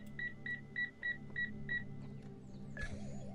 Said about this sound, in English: And the beeping just lets you know when you're kind of pushing your luck.